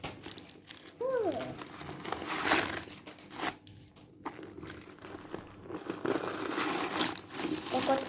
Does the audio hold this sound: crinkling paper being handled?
yes